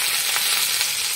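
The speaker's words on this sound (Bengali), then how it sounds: "তোমার পেঁয়াজটা ভাজা ভাজা হয়ে গেছে।" Onions fry in oil with black cumin and bay leaf in a kadai, giving a dense, steady sizzle close up with no talking.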